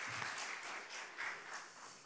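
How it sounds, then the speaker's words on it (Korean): Applause from a church congregation during a Korean Sunday worship service, steady clapping texture throughout, fairly faint and distant, with no speech over it. "영광의 박수를 하나님께 드리겠습니다"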